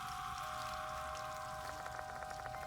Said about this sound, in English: Also explains the sound of running water